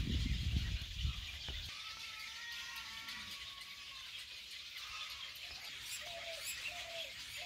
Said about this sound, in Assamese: বগলী ঢেৰ বগলা নলবেৰীয়া ভাষাত বগলা বুলি কয়